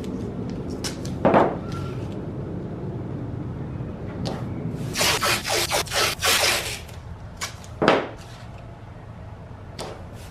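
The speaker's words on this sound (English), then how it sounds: "we gotta kind of sand this down some" Scratchy rubbing strokes of 120 grit sandpaper on a block sanding cracked carbon fiber, a few isolated scrapes followed by a quick series of rhythmic back-and-forth passes, close by and fairly loud.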